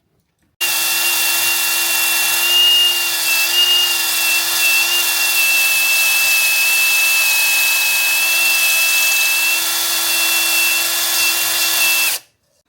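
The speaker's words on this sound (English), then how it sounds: "I'm playing with his honing tool." A powered honing tool spins inside a cylinder of an MF 1200 DAF engine, a loud, steady, close whine with a sustained tone that starts abruptly and cuts off after about twelve seconds.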